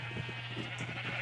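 Sheep bleat steadily from the Minecraft video game, a continuous bleating over a constant low electronic hum, fairly faint and with no one speaking.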